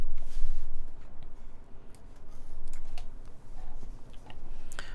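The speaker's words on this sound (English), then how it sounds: "so let's get typing testing up." Keys clatter on a Vertex Arc60 mechanical keyboard in irregular, fairly quiet bursts of clicks and taps, with uneven pacing over a low background hum.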